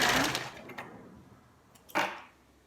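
A sewing machine stitches down a folded-under fabric edge on a spaghetti-strap top, with a loud burst of running at the start, a fading hum, then a second short run near the end.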